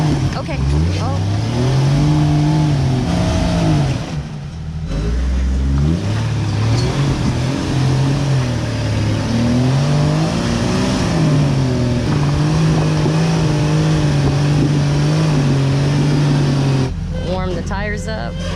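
An off-road vehicle's engine revs hard and steadily while its tires spin during a wheeling run, loud and close for most of the stretch, with a few people talking over it.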